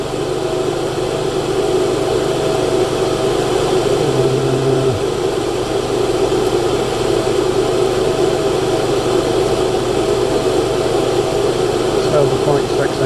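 An inverter generator runs steadily as a battery charger draws from it, a constant loud engine drone with a low mechanical hum that holds unchanged throughout, apart from a brief low tonal dip partway in.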